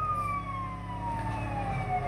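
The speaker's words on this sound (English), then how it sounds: "I turn on my siren to go on pursuit." A police siren wails steadily with a slowly falling pitch, loud and close, over a low engine rumble.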